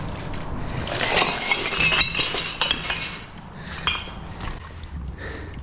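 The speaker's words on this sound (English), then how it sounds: "let's see how many bottles we can fit in the pot" Glass bottles clinking and knocking as they are dropped one after another into a big old pot at a creek cleanup, a run of bright irregular clinks and clatters at close range, no talking.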